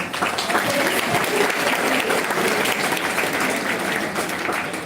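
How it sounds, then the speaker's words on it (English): Sustained audience applause at a International Women's Day celebration at Lloyd Institutions, loud and steady throughout without any voice over it. "I think we all deserve a huge round of applause"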